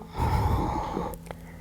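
A long breath during a yoga exercise, heard close and steady as an audible exhale, ending in a short soft sniff or snort.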